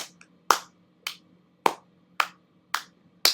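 Sharp, isolated claps ring out at a live performance in an evenly spaced rhythm, about one every half second, crisp and fairly close against a quiet background.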